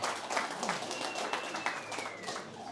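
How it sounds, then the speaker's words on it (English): A modest crowd at a Bitcoin community meetup in Denver claps for itself. The applause is soft and somewhat distant, a light, even patter lasting a few seconds with no speech over it. "Please, round of applause for you all"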